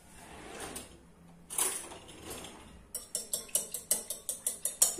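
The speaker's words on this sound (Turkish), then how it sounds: "Bu şekilde yumurtalarımı güzelce çırptım" Whole eggs are whisked together in a bowl for a Turkish meat-filled börek, with a few slow strokes at first, then a quick, even run of close, light clinking taps.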